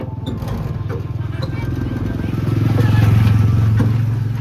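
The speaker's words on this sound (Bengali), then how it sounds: "এখন টোটো চালাচ্ছি" A toto electric rickshaw driven by a first-time driver, with a continuous low rattling hum and clatter that swells louder near the end, and a voice speaking over it.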